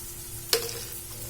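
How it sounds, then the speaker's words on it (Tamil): Potatoes with ground masala and salt in a pan, a steady soft sizzle broken by a single sharp scrape of a spoon. "இது எல்லாத்தையும் நல்லா மிக்ஸ் பண்ணிடலாம்"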